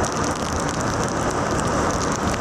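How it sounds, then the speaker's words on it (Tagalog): Steady rain pours down at a camping event in Balagtas, Bulacan, a dense, continuous hiss of drops striking surfaces close by, with no voices. "ulan naman."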